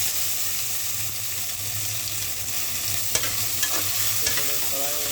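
Marinated soya chunks fry in a pan for soya khichdi, a dense, steady sizzle with a low hum beneath and a few sharp spatula clicks near the end.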